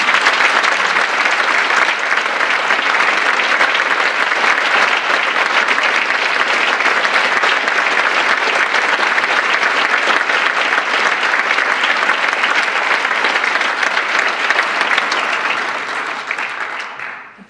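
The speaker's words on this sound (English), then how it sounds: "I want you to give a very, very warm round of applause for real hero," A lecture-hall audience at a tar sands speakers' tour event gives sustained, even applause for speaker Eriel Deranger. Thick clapping from many hands continues for over fifteen seconds, then fades out quickly.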